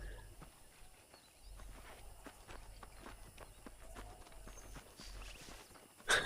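Horse hooves clip-clopping at a walk in the video game Red Dead Redemption, a faint, steady series of soft thuds over low background ambience.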